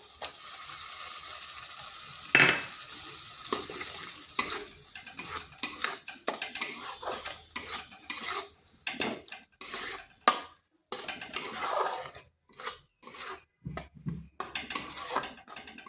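Tomato paste stirred and sautéed in a pan, with a utensil scraping and clinking against the pan in irregular bursts over a steady close sizzle, no voices.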